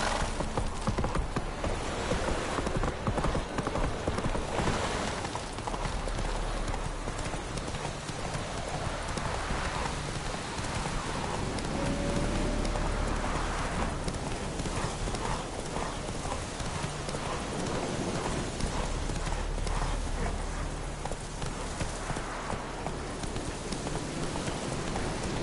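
Horse galloping with steady clip-clop hoofbeats through rain in The Witcher 3 video game, continuous and fairly loud, with rain hiss throughout and a brief whinny.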